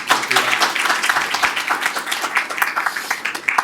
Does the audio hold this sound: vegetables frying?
no